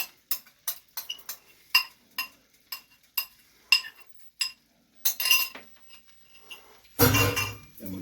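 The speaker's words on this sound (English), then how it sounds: "We're going to use a spoon, and we're going to put this right into our frying pan." A metal spoon clinks repeatedly against a frying pan while cacio e pepe cheese is stirred, sharp ringing taps at an uneven rhythm, then a louder burst of scraping and sizzle near the end, no voices.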